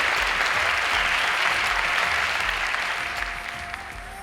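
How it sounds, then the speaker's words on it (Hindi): Studio audience applause for a team on a televised quiz show in Pakistan, a full steady round of clapping that slowly fades over a few seconds, with a low rhythmic hum beneath. "जीबी, भाई जीबी के लिए फिर तालियां होनी चाहिए,"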